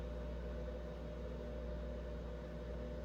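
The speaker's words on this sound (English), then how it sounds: "I'm going to throw it in the microwave and show you what that looks like" A microwave oven running while cooking bacon gives a steady low hum and drone, continuous and moderately quiet, with no talking.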